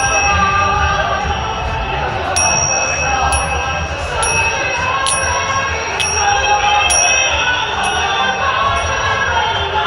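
A bell rings repeatedly, clear high strikes at uneven intervals, over a busy background of crowd murmur and rumbling noise.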